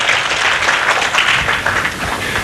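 Audience applause at a live school concert in 2000, a steady dense wash of clapping filling the whole stretch at moderate loudness with no voices over it.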